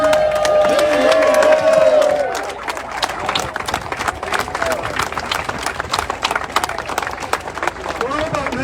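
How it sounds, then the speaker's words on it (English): Workers at a labor rally in Boston, Massachusetts, break into loud, dense applause and cheering that fills the space after a voice finishes speaking, the clapping carrying on steadily to the end. "let's give you all a round of applause because you're the hard workers"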